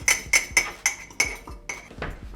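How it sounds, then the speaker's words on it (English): Spoon clinking against a mug while pizza-in-a-mug ingredients, pepper and a little cheese, are stirred together before microwaving: about seven quick, close clinks in an uneven rhythm, with nothing else in the background. "Mix it all together."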